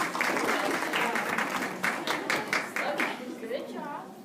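A classroom round of applause, brisk group clapping that starts full and thins toward the end, with voices chattering underneath as it fades.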